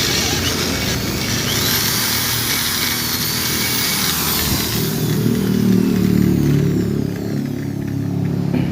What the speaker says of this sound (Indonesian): langsung pengeburannya gini